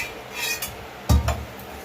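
Petai paratha dough being beaten by hand in a home kitchen, shop-style: a couple of soft, dull thumps close by, the second a quick follow-up to the first, with quiet moments around them.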